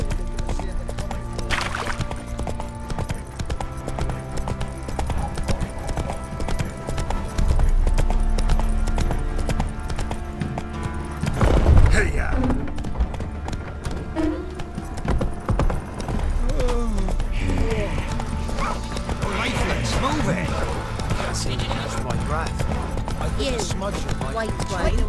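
A horse gallops in The Witcher 3, with rapid, steady hoofbeats drumming throughout alongside game ambience while characters talk.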